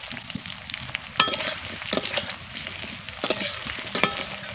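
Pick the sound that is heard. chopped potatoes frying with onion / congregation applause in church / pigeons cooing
chopped potatoes frying with onion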